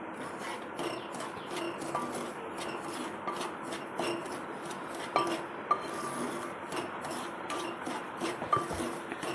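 Semolina (rava) roasts on a tava on the stove while a spatula scrapes and stirs it, giving repeated short scraping strokes and light metallic clinks at a steady, moderate level.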